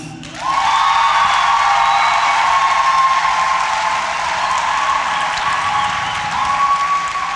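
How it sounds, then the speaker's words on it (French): A cinema audience in Benin applauds and cheers after a film screening, loud continuous clapping with a sustained whistle or shout running over it, close and full. "Si tu as aimé, Applaudis."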